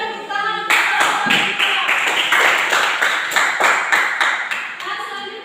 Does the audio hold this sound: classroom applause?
yes